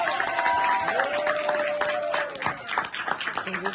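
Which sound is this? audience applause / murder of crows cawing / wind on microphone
audience applause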